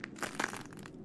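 Glass shards crunching underfoot in a video game hospital corridor, a quick series of faint crisp crackles from a single step.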